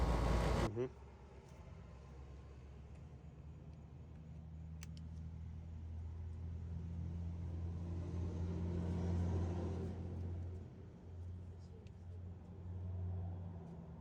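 A Whirlpool washing machine that has trouble spinning and makes a grinding sound runs its drain and spin cycle, starting with a sharp clunk and then a low, steady motor hum that swells and eases, with a person speaking over it.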